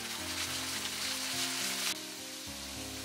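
Eggplant sizzles steadily in a hot pan while being stir-fried with salt, soy sauce and oyster sauce, a loud continuous frying hiss with a low hum underneath and no speech.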